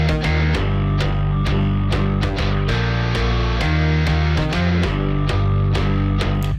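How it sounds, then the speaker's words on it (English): Bass guitar and overdriven electric guitar chords play together without drums, with dense, sustained distorted chords struck in a steady rhythm over a deep bass line. The mix is loud and continuous throughout. "So if I solo the bass and these overdriven chords, it sounds like this."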